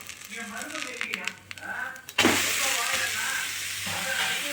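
A carrot dosa frying on a hot pan, with a sudden loud, steady sizzle that follows a stretch of quieter cooking noises, while a person speaks over it.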